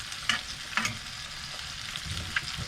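Bacon and an egg fry on a narrowboat stove, a low steady sizzle with a few sharp spatters and utensil taps scattered through, fairly quiet and with no speech.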